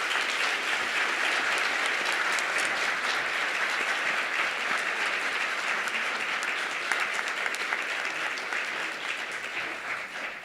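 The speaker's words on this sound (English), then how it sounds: "let us hear a round of applause for all the high school teachers here with us this evening" Sustained, steady audience applause fills a teaching awards ceremony honoring high school teachers, dense clapping holding at moderate volume without pause.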